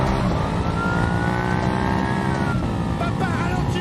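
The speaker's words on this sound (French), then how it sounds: "Papa, ralentis la voiture." A car's engine drones steadily and loudly from inside the vehicle while it drives, with rising tonal whine and faint tire noise, and a voice speaks over it.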